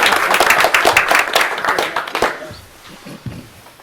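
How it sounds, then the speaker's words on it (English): Audience applause at a book launch for a writers' group: a dense burst of clapping that fades out over a few seconds, with a murmur of voices underneath. "would you give a round of applause for Teresa Hogan"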